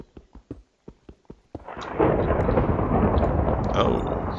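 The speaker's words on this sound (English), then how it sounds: "Oh, thunderstorm." Minecraft thunderstorm in the video game: a series of sharp, evenly spaced clicks gives way to a loud, sustained rumble of thunder rolling on steadily to the end.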